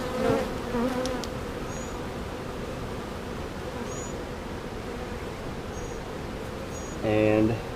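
Honeybees hum and buzz in a steady, soft drone during a mid-June hive inspection, with a few brief louder passes of individual bees close by.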